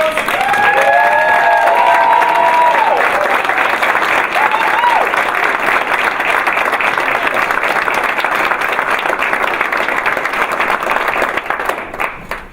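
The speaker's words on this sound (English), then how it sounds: "Everybody, round of applause." A crowd at an induction ceremony bursts into loud applause mixed with cheers and whoops, a thick continuous wall of clapping that stays strong before thinning out near the end.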